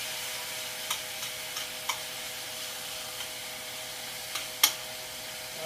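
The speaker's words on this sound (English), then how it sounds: "Actually, I'm gonna stir it now." Chicken frying in a pan being stirred, a steady hiss of sizzling oil with a few sparse scraping ticks and one sharper clack near the end.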